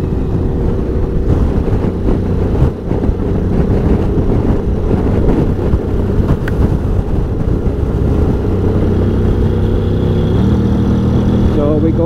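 Honda Forza 750 scooter-style motorcycle (2021) riding on the road, a steady engine drone with rising pitch steps as gears change, heavy wind buffeting the microphone throughout.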